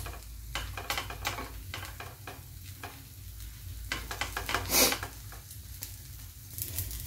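Pav bread, brushed with butter on its flip side, toasts in a hot pan for pav bhaji. A steady close sizzle is broken by repeated scraping and stirring bursts, with no one talking.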